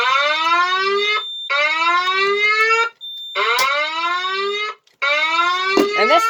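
A Federal Signal 950i-S24 electronic alarm sounds indoors in long repeated blasts, each a loud sustained harmonic tone with a rising slur, broken by brief gaps, with no talking.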